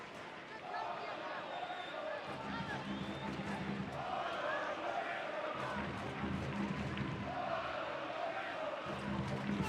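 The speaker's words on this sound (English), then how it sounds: "Full-throated crowd, including most significantly Ralph's mob." A full-throated stadium crowd cheers and roars at a Tampa Bay Rowdies versus Montreal Impact soccer match, a sustained dense wash of voices that swells in waves beneath a commentator's talk.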